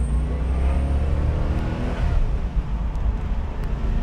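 Deep engine roar from inside a 1996 Chevrolet Corvette Grand Sport, loud and rumbling, rising in pitch then dropping briefly as it shifts before pulling again.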